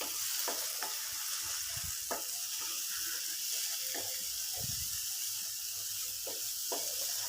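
Egg podimas gravy sizzling steadily in a pan while being stirred, with scraping spoon strokes and soft clinks recurring over a constant frying hiss, close and alone.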